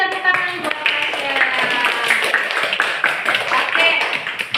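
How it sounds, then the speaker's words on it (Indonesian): Classmates clap for a student in a school classroom, a brief, bright burst of hand claps mixed with children's voices and chatter. "Kasih tepuk tangan buat Rasya."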